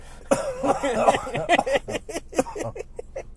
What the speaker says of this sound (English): I'm holding back a cough